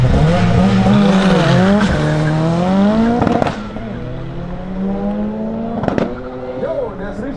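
A 2-litre 16V turbo all-wheel-drive Opel Calibra with 560 hp launches against a BMW 335i in a drag race. Loud engines roar and rise in pitch with tire squeal at the start. Someone speaks briefly over the noise.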